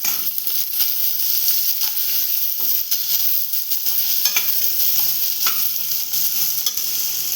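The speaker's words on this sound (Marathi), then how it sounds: "आता आपण टाकतो टोमॅटो. त्याला आपण परतवून घेऊया आपण." Tomatoes and onion sautéing in a hot pan for a Maharashtrian ghevda bhaji, a loud continuous sizzle with occasional stirring scrapes throughout.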